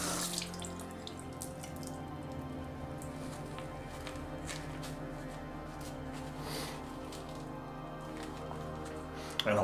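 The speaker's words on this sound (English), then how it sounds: "I'm going to run it under cold water." Cold tap water runs steadily into a sink while a razor and shaving brush are rinsed after a wet shave, a continuous close splashing flow with faint dripping, lasting throughout.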